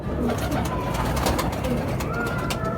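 Soft cooing of a Rajasthani Kalmuhe pigeon over a steady low background murmur, the cooing repeating gently and close by.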